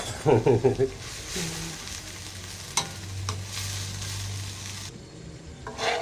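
Pork stir-frying in a pan for Thai spicy kua kling with shrimp paste: close, loud sizzling with rhythmic spatula scrapes and clacks at the start, steady frying hiss throughout and a few sharp knocks.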